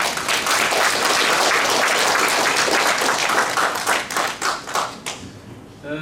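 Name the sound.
audience applause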